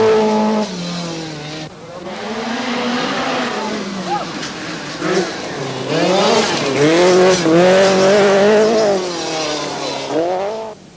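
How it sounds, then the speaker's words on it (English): A Lancia rally car races over rough gravel stages at Rally Portugal 1983, its engine revving hard, rising and falling through the gears, with tire scrabble, while a commentator talks over it. "the Lancia's speed over the rougher stages is impressive"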